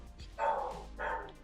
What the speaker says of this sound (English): I'm so sorry about the barking dogs.